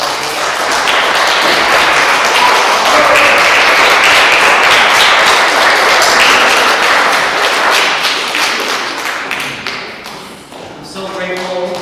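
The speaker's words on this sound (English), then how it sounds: "would you all please a round of applause for" A crowd applauds loudly and continuously at a youth orchestra winter concert, dense clapping that swells and then tapers off, with a voice coming back in at the end.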